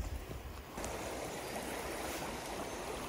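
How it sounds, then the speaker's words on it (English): River water flows in a steady, close broadband rush with no pauses. The setting is a fishing spot at Abington, and nobody speaks. "this is a lovely wee bit of river"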